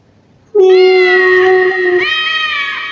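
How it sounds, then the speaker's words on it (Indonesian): A loud, close cat meows in one long drawn-out cry, then a second wavering meow follows right after, with nothing else audible. "Suara kucing. Awalnya satu, tapi mulai berdatangan lagi dan lagi, satu persatu dan semakin banyak."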